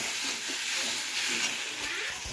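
Greens, okra and potatoes frying in a pan on a gas stove, giving a steady close sizzle and hiss with no talk.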